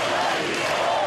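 A large crowd gathered at Catalonia square in Barcelona shouts together in one sustained, loud collective roar that fills the space without a break.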